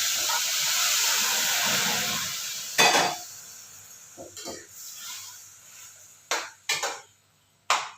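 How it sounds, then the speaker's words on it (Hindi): Food lightly frying in a pan, a broad hiss and sizzle with spluttering that fades after a few seconds, followed by several sharp clanks and scrapes of utensils against the pan. "बस हल्का सा ही फ्राई करती हूँ इसको।"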